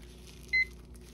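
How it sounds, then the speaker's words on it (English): A kitchen timer being set in a craft workspace gives a single short, sharp electronic beep over a low steady background hum, with no talking. "Let me get a timer going."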